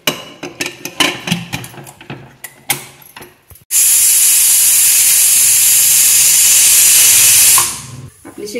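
Pressure cooker on a gas stove cooking amla in jaggery: a few clanks and taps, then a loud sustained hissing steam whistle lasting about four seconds before cutting off, followed by faint clatter.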